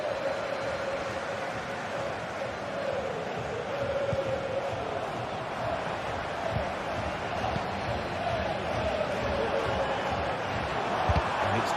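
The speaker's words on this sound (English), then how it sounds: "The crowd urging him to shoot." Steady roar of a video game football crowd rising to urge a player to shoot, a broad wash of cheering and noise running throughout with no break.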